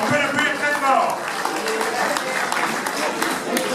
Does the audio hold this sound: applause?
yes